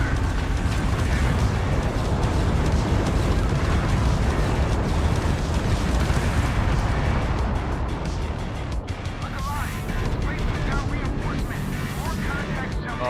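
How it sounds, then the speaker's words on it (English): Continuous loud rumbling explosions and booming impacts from an in-game bombardment in Starfield with a Star Wars mod, dense and sustained throughout, with a voice talking over the barrage. "I'm getting bombarded."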